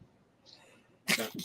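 A sudden, sharp sneeze bursts out after a quiet stretch, followed by a brief breathy tail.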